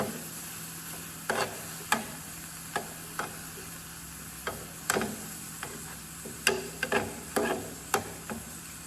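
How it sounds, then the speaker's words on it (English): Spoon stirring a spiced mixture with coriander powder and turmeric in a pan, irregular clicks and scrapes against the pan over a faint steady hum, quiet and close, with no speech. "Now let's mix this together."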